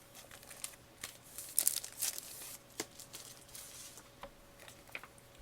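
Tape is peeled off a comic book in short crinkling, tearing bursts, faint and close, with quieter rustles of paper in between.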